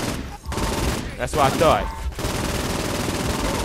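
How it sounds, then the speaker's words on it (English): Rapid assault rifle fire in Saints Row IV rattles out in short loud bursts between game dialogue, with a voice talking over the shooting. "time to bring the firepower. Assault rifle."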